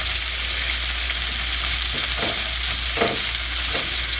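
Shrimp fry in a pan over high heat with a loud, steady hiss of sizzling oil, broken by a few short stirring or tossing scrapes near the end, close and without talk.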